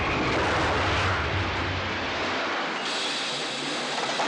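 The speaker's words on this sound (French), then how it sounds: "Les courses de stock car." Stock car racing engines roar loud and steady as cars pass close, a dense broadband drone that cuts to a thinner, higher whine partway through.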